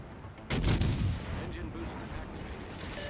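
Warship guns fire in the naval video game World of Warships: Legends, one loud booming salvo followed by a rumbling tail and faint later shots.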